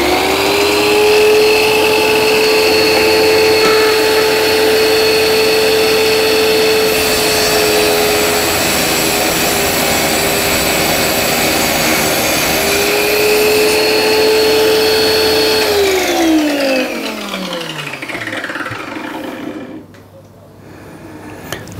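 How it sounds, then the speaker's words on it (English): An electric tile cutter slicing ceramic tiles, a loud sustained whining motor drone that holds steady through the cut, then spins down and fades near the end. "Turn on the cutter."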